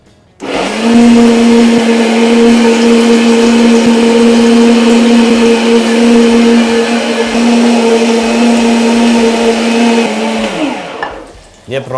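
Blender whirring steadily as it purées Thai red curry paste with coconut cream for a mushroom and bitter melon curry, loud and continuous for about ten seconds before winding down and stopping.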